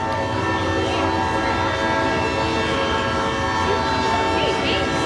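A loud, sustained train horn blares over rumbling rail noise, holding steady for the whole stretch with no break.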